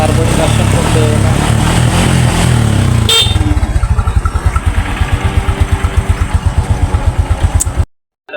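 A motorcycle engine, its electric starter repaired with new carbon brushes, catches on a single push of the starter and settles into a steady, loud putt-putt idle close by, then cuts off.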